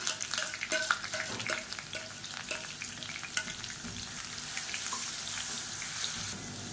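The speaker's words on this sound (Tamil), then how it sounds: "இப்போ அரைச்சி வச்சுருக்க வெங்காயம் வரமிளகா பேஸ்ட்டை சேர்த்துக்கலாம். சேர்த்துட்டு பச்சை வாசனை போக வதக்கி விட்டுக்கலாம்." Onion and dried red chili paste is sautéed in hot oil, giving a bright, steady sizzle with scraping and clicking from stirring, busiest early and settling into a continuous fry.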